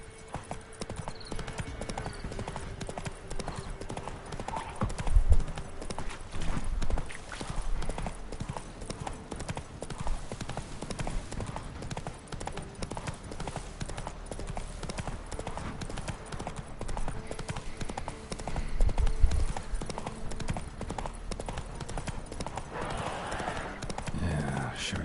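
Roach the horse trots in The Witcher 3: Wild Hunt, a steady rhythmic clip-clop of hooves running throughout at moderate loudness over ambient game sound, with a spoken voice now and then.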